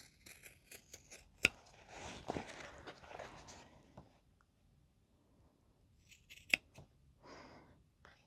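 Scissors trimming fabric seam allowances while sewing a crossbody bag, with several quiet close snips spread through the clip, two sharp clicks, and soft rustling of the material in between.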